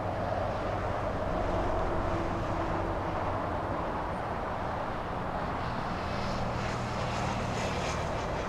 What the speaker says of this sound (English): Beginning to taxi.